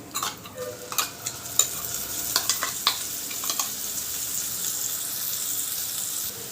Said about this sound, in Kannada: ಇದು ತುಂಬ ಚೆನ್ನಾಗಿ ಫ್ರೈ ಆಗಬೇಕು ಸೈಡೆಲ್ಲ ಎಣ್ಣೆ ಬಿಡುವಷ್ಟು ಫ್ರೈ ಆದಮೇಲೆ